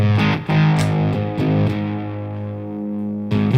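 Electric guitar notes and chords ring out through a reverb effect with some distortion, sustained tones trailing and decaying between a few picked attacks, loud and close with no talking.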